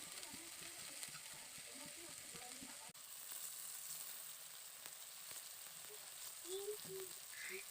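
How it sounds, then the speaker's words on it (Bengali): Bay leaves and three dry red chillies frying in hot oil in a kadai, a steady soft sizzle that runs through the whole stretch with faint stirring clicks, fairly quiet and without any speech. "ভালো করে শুকনো লঙ্কা তেজপাতাটাকে ভেজে নিলাম"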